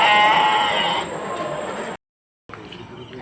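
Sheep bleat at the Haveri sheep market, a loud, wavering call at the start that fades into a busier market background. A short silent gap follows, then the crowd noise returns.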